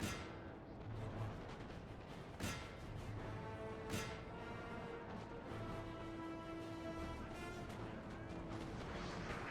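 Cannons fire round shot in the Napoleon: Total War video game during a Russian campaign battle, with a couple of sharp, distant booms standing out above a constant roar of battlefield noise.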